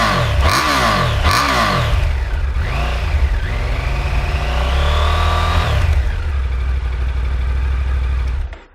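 Exhaust note of a 2021 Triumph Tiger 850 Sport motorcycle with a T-plane crank: a few sharp throttle blips, then a long rising and falling rev that drops back to a steady idle before cutting off, loud and close.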